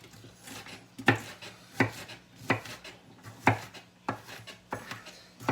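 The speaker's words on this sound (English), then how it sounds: "Just chopping up half the onion, getting ready to go in." Knife rough-chopping half an onion on a cutting board for chicken vegetable soup, eight or so evenly spaced thuds about a second apart, close and clear, with a faint scraping between strokes and no talk.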